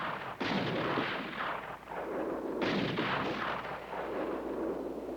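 Artillery guns fire in a war film set on a mountain, loud booming blasts with rumbling reverberation filling the whole clip, strong reports near 0.4 s and 2.7 s over continuous battle noise.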